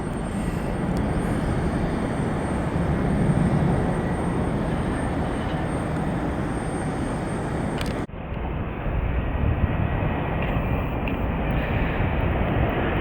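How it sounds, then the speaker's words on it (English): A Delta Connection Canadian Regional Jet 700 passes near an airport, a loud steady jet roar filling the whole stretch, with a brief dip midway before the engine noise continues. "Canadian regional jet 700 it looks like"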